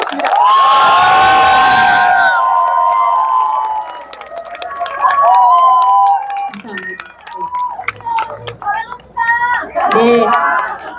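A crowd at an outdoor election rally at Busan Station cheers and shouts loudly, with whoops and scattered claps swelling and dipping over several seconds.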